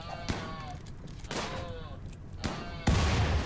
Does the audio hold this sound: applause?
no